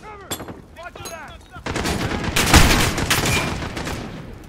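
Machine gun fire in Call of Duty: Modern Warfare erupts in dense, loud bursts after a couple of brief shots, with shouted voices heard early in the game's battle scene.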